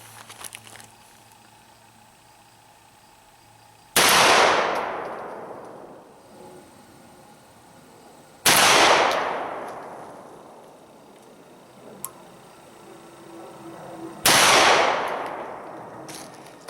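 Three loud, sharp shotgun blasts from a Mossberg 930 SPX, fired at intervals of roughly four to five seconds, each ringing out with a long echoing decay over a quiet outdoor range, no voices.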